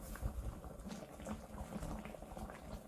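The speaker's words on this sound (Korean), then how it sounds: "카레가 보글보글 끓면서 걸쭉해지면" Thick curry bubbling steadily in a pot as it thickens, with irregular soft pops and gurgles close by, no voices.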